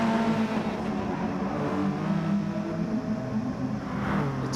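Mitsubishi and Subaru race cars in a racing video game, engines droning and revving steadily at close range, with a continuous whir and no pause over several seconds.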